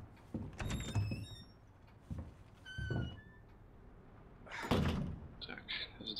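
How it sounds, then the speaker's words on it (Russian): A door creaks open and thuds in Resident Evil 2 (RE:2, Leon), several clunks and a slam-like hit spread across the clip, mixed under a player's talk and game sounds. "Теперь мы сможем открыть двери."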